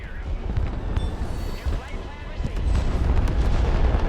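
Cruise missile strikes in the Broken Arrow military strategy game build into a dense, loud rumble of booming explosions and heavy low roar that swells toward the end, with a voice under the blasts.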